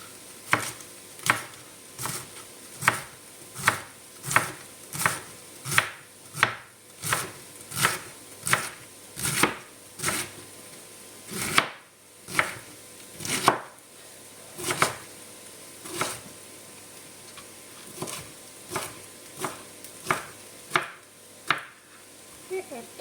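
A large kitchen knife chops a cored cabbage on a board in a steady series of sharp, close thuds, about one per second, with no talking.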